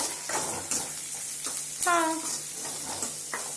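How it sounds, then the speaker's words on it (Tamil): Salted onions sautéed and stirred in a pan for chicken kulambu, a soft steady sizzle with occasional spatula scrapes and a brief tonal clink, close but fairly quiet. "லைட்டாக உப்பை வந்து போட்டதுனால நல்லா வதங்குது"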